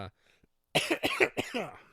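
A faint throat sound is followed by a loud burst of several harsh coughs in quick succession, close and unaccompanied by talk.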